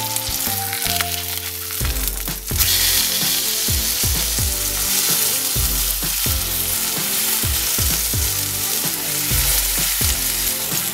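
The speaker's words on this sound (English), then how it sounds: "while the steak is cooking, to just give the onions a little bit of a stir every now and then" Steak and onions sizzling loudly in a hot pan, a constant close frying crackle with a rhythmic series of scraping stirs and knocks against the pan, no voices.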